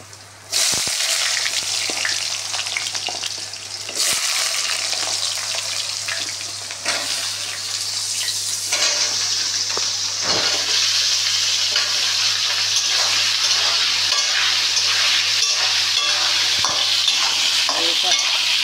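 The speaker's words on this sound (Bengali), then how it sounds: "এই আলুটাকে আমি ভেজে নেব।" Potato pieces fry in a salted kadai with a steady, dense sizzle and occasional stirring scrapes, continuous and close throughout with no talking.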